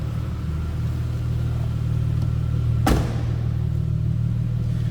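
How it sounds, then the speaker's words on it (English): A 2000 Plymouth Prowler idles steadily from behind the car, a deep constant exhaust rumble with a brief sharp burst near the middle. "Slip around to the back so you can hear this run."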